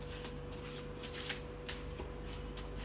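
Tarot cards shuffled by hand in a quiet room, a series of soft crisp riffling and slapping bursts at an irregular rhythm, close and fairly quiet, with no talking.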